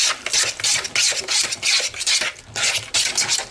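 A fork scrapes and rubs in rhythmic strokes through a bowl of batter as butter is worked in, about a dozen close, gritty passes with short pauses between them, no voices.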